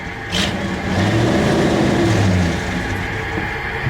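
An old vehicle engine, fault-prone and stalling easily, revving up in a sustained loud drone that holds for a couple of seconds and then eases off.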